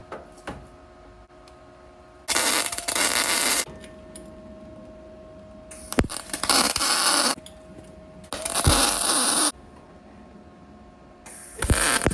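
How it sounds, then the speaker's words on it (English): Stitch welds are run on a homemade steel Tacoma bumper: several loud, steady bursts of harsh crackling buzz, each a second or so long, separated by quieter gaps of low hum. "here I'm staggering the welds and not just welding it out in one big line because I'm trying not to warp the bumper"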